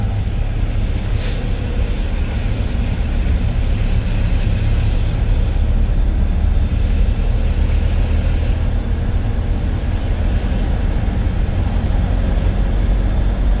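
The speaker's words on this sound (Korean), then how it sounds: "엑셀 좀 더 밟습니다" During a Korean driving test, a car accelerates with a steady, loud engine and road rumble heard from inside the cabin, holding constant for over thirteen seconds with no talk.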